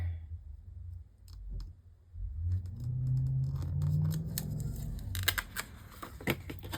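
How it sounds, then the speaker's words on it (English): Scissors make a few crisp, close snips while trimming a paper washi strip, alongside light handling rustle and clicks. "you literally just trim it to make it almost like a washi strip sticker"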